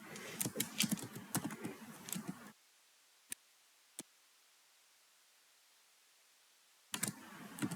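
Keys clack quickly on a computer keyboard in a dense burst, then two isolated taps come through a quiet pause before another fast flurry of typing resumes; close and fairly quiet, with no voice.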